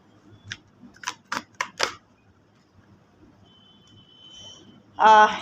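Tarot cards being shuffled by hand: a quick run of crisp, papery bursts close by, a quiet pause with a faint thin tone, then one louder, fuller rustle at the end.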